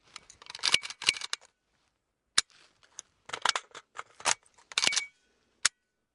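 Kalashnikov (AK) rifle magazine being swapped: sharp metallic clacks and rattles as the magazine is rocked into place, then a bolt charge, in close bursts separated by brief pauses, with no talk.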